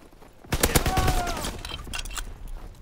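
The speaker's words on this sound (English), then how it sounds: "Oh shit, I'm getting shot at." Gunfire in the World War II shooter game Call of Duty: WWII, a loud burst of several overlapping shots over about a second, followed by quieter continuing battle noise with faint talk underneath.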